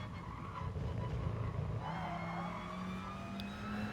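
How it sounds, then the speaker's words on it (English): A race car at full throttle through a long right-hand sweeper in Gran Turismo, its engine droning steadily with a rising pitch and faint tire squeal, moderately loud and continuous. "we got a full throttle coming through the long sweeper to the right"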